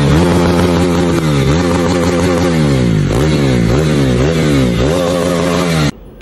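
A motorcycle engine revs repeatedly at close range, loud throttle swells rising and falling in a steady pulsing rhythm before cutting off near the end.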